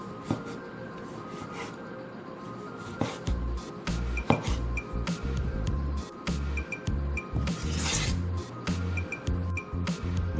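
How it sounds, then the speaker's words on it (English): Red, juicy pieces of a small chopped tomato drop into a bowl, giving soft wet squishes mixed with light clinks of glass and utensils, close up, with no talking. "Red juicy tomato pieces going into the bowl."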